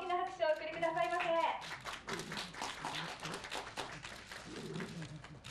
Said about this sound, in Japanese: 皆さん大きな拍手をお送りくださいませ。